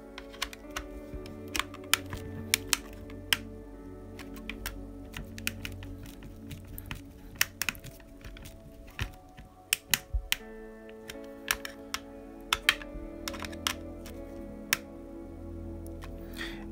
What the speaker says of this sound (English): what I'm going to do now is actually screw those in all the way.